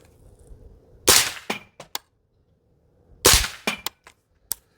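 Two suppressed rifle shots fired through a Radical LS-5 or Huxwrks Ventum 556 suppressor, each a loud sharp crack followed by a short trail of mechanical clinks and clatter, spaced about two seconds apart with quiet in between.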